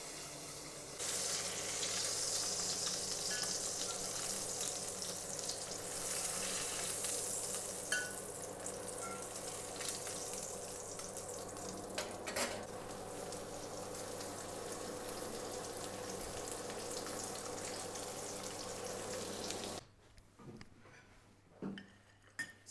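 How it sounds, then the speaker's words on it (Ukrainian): Steady loud sizzling as pork chops fry under a pan lid, a continuous crackling hiss for about twenty seconds with an occasional clink, then it abruptly cuts quieter. "Хоча так і чути під кришкою, що так шкварчать."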